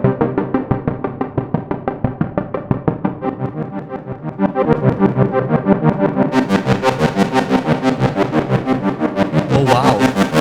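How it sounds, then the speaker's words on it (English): An Odin 2 software synthesizer arpeggiator plays rapid repeating pulsed notes in a steady rhythm, switching to a brighter, fuller distorted tone partway through, loud and alone. "We even have like a little arpeggiator."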